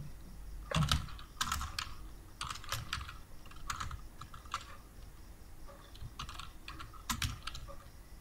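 Fingers tap out a name on a computer keyboard in short bursts of quick, light key clicks, close and fairly quiet, separated by brief pauses.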